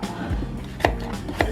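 Turnips being chopped with a knife on a cutting board, two distinct close knocks about half a second apart over a low background murmur.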